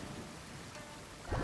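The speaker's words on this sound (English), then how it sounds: "With rain this heavy" Steady heavy rain hisses evenly throughout, a dense wash of drops on surfaces, with a louder burst of splashing near the end.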